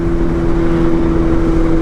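A BMW M1000R Competition motorcycle fitted with a titanium header and mid pipe exhaust runs loud and close, a steady droning engine note with a strong sustained tone throughout.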